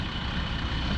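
A tractor engine runs steadily at a busy boat launch at Shelter Cove, Northern California, a loud, continuous low diesel rumble with no pauses, close by and without talk.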